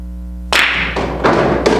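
Pool cue striking the cue ball with maximum draw and left spin into the 1 ball: a soft cue-tip tap followed by a couple of sharp ball clacks, close and clear, alone in a quiet room.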